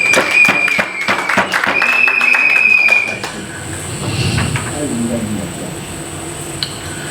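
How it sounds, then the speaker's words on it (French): A crowd at a Congolese political conclave cheers and claps for a speaker, with dense, loud applause for about three seconds before it thins out into a murmuring crowd. "Vous l'acclamez."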